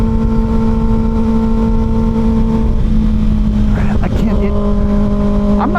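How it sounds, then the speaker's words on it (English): Kawasaki Ninja ZX6R 636 sport motorcycle engine pulling hard under acceleration, a loud droning tone that shifts pitch as it runs up, heard close with wind rush and a rider talking over it. "this bike has got quite a bit of mid-throttle grunt"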